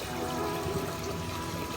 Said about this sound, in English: then you just fill it with water